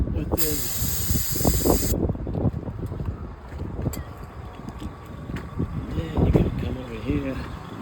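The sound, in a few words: spray can spraying on truck engine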